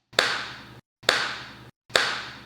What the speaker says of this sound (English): you're going to end the entire routine with 10 slow, deliberate claps